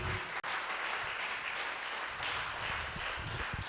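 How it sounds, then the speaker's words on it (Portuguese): A church congregation applauds during a Wednesday faith service, a dense, steady wash of many hands clapping from start to finish with no voices standing out. "Você pode aplaudir o nome dele?"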